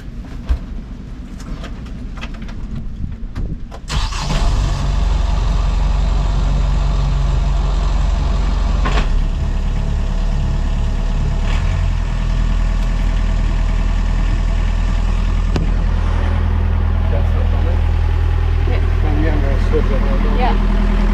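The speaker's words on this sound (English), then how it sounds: "we're gonna flash the engine up and then switch that one while it's running" A sailboat's marine engine turns over and catches about four seconds in, then idles steadily at a loud, constant level with a deep low rumble until the end.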